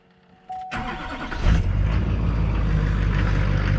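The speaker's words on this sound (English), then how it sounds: "crank the old Duramax up here, get her warmed up" An old Duramax diesel engine cranks briefly, catches and settles into a loud, steady low rumble at idle, heard close with no talk.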